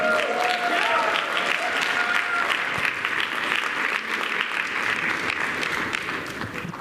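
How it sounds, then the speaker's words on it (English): An audience applauds at a blockchain conference track in Dubai, a dense, steady wash of clapping heard throughout, with a brief voice at the start. "So a round of applause for him"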